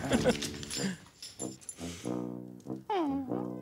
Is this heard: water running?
no